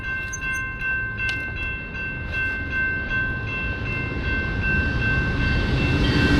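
An Amtrak train rolls past near a bike path, a steady low rumble with a sustained tonal hum and faint clattering, growing gradually louder as it approaches.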